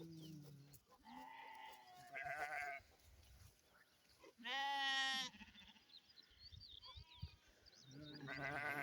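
A flock of sheep and goats bleats in an open pasture, several separate calls at different pitches coming one after another, some near and loud, others fainter, with quiet gaps between them.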